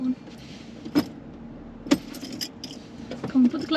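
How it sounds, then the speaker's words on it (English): Car keys jangle in several sharp, close clinks, with the key turned in the ignition of a manual car, over a low steady hum; a voice speaks briefly. "Twist the key all the way"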